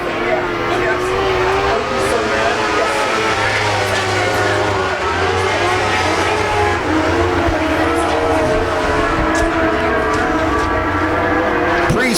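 ModLite race cars lap Arizona Speedway in a constant, loud engine roar that holds steady throughout, with an announcer talking over the racing.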